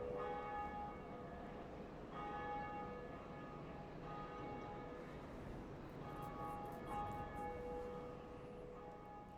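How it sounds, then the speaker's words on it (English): Church bell of awakening ringing at the undead church in the game Dark Souls Remastered, steady sustained metallic tolls with repeated strikes over a dense, loud ringing wash, no talk. "Ring bell of awakening at undead church."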